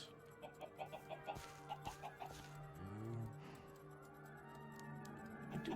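Video game chickens cluck in a soft, steady run of short pecking notes, faint and somewhat distant, over a quiet ambient game soundscape with no one speaking.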